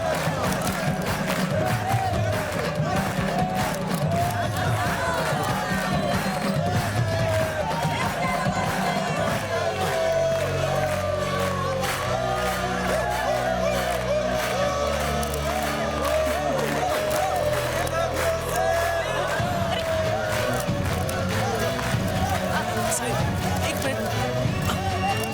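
A large, dense crowd mills around, producing a continuous roar of overlapping voices, shouts and occasional cheers that stays loud and busy throughout.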